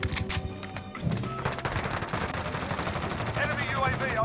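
AN-94 rifle fire in Call of Duty Modern Warfare rattles in loud, dense automatic bursts that run almost continuously, layered with other battle noise and game effects.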